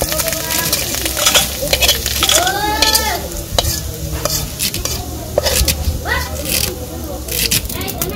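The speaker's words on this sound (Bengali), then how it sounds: "আমার মাছটি ভাজা হয়ে গেছে, মাছটি নামিয়ে নিই।" Fried fish being lifted out of a frying pan, with close utensil scraping and clinks over a steady oil sizzle while a person talks intermittently.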